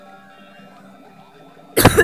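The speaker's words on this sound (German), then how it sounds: "Mein Husten legt sich wohl gar nicht mehr." A short burst of coughing breaks out near the end of a quiet stretch, close and loud against faint background game music from a Mario Kart Wii session.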